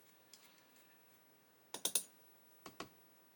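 An M1.7 tap cutting a thread in a small metal part for a 1:8 scale Ferrari 330 P4 model gives a few sharp, close clicks and scrapes in two short clusters, with no voices.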